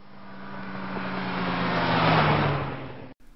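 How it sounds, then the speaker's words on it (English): A single car approaches and passes by, its engine tone swelling to a peak and then falling in pitch as it recedes, ending in abrupt silence. "I want you to try to listen for that once again with the audio of the car here."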